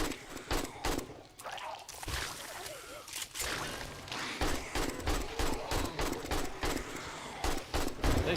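Rapid gunfire at feral zombies in 7 Days to Die comes as dense bursts of sharp reports, some closely spaced and some spread out, and it carries on without a break through the whole stretch.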